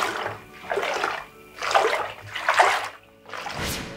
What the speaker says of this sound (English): Did you hear the sound the water made when I swished it in the bath?